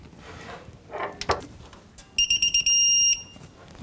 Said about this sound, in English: I got a deep 21 socket and my 1/2-inch torque wrench on the inside set for 74 foot-pounds. And we'll see if we can torque this up.